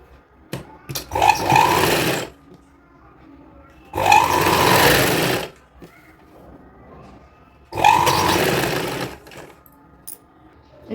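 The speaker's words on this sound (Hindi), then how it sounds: "अब हम इसको इस तरह से अंदर की तरफ फोल्ड कर लेंगे और एक इधर दूरी से सिलाई लगाएंगे" A sewing machine stitches a folded-in strip of kurti fabric, running in three steady bursts of about a second and a half each with short quiet pauses between them, close and fairly loud.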